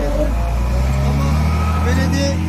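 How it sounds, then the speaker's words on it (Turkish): An oncoming car passes on a snowy mountain highway between Kastamonu and Bartın, a steady low engine and tyre rumble close by with voices talking over it throughout. "Ters yönden gelen bir araç"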